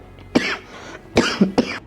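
Three sharp chest coughs, the first alone and then two in quick succession, close and fairly loud.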